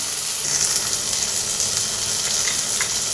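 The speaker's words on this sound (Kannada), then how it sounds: "ಈ ಥರ ಫ್ರೈ ಆಗಬೇಕು ಚೆನ್ನಾಗಿ" Paneer keema fries in a pan with a loud, continuous close sizzle, a dense hiss that carries on evenly throughout with slight crackling variations.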